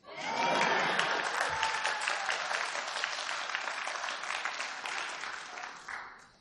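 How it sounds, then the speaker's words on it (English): An audience at a policy forum panel on school vouchers, green energy and open primaries breaks into loud, steady applause that holds for several seconds before tapering off. "You're going to get some applause for that."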